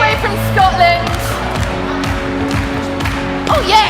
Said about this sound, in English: A big round of applause for the Dan Bottick!